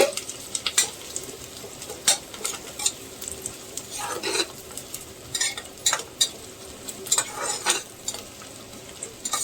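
Sliced onion frying in hot oil for prawn pulao, a steady soft sizzle broken by repeated scraping strokes of a spoon stirring the pan, with nobody speaking.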